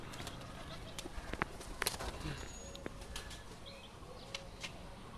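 Madras pigeons kept at home give faint, scattered wing flaps and soft scuffles against a quiet background, with muted voices nearby.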